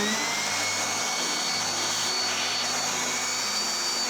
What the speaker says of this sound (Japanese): こうすることでね、掃除機になるんですね。